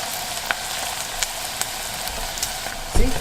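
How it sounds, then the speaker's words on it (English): Chicken skin frying in oil, giving a steady soft sizzle with scattered small pops and crackles close up, no talking. "You can tell when it's almost done because you stop hearing that little fry type noise, or it slows down."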